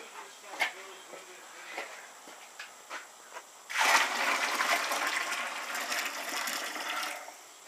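Sparge water pours steadily into an all-grain homebrew mash, a sustained rushing splash that starts abruptly after a few scattered knocks and handling sounds and continues without a break.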